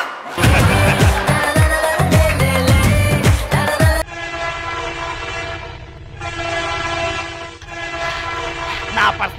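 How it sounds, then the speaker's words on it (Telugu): A train sound effect plays during a stage comedy performance: a loud, rapid rumble and clatter of a passing train, then long, blaring horn blasts that rise and fall over several seconds. "ఈ ట్రైన్ ఆగేటట్లేదు"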